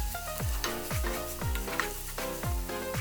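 Chili oil, soy sauce and anchovy fish sauce stir-frying in a pot for Korean cabbage soup, with a steady close sizzle broken by roughly six rhythmic scraping strokes of a spoon against the pan, no voices.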